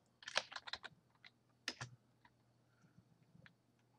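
Typing on a computer keyboard in a quiet room: a quick burst of close key clicks, a brief pause, then a few more scattered taps, soft and alone over a faint steady hum.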